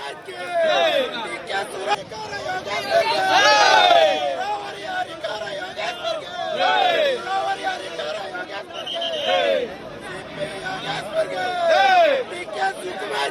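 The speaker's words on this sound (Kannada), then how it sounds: "ಹರ್ಷೋದ್ಗಾರ ಅಂತೂ ಮುಗಿಲು ಮುಟ್ತಾ ಇದೆ" Party workers cheer loudly at a political vote-count celebration, a dense crowd of overlapping shouts and excited chatter rising in repeated swells throughout.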